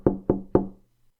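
Three firm knocks on a locked door in quick, even succession, each a hollow thud with a short decay, close and loud with no voices.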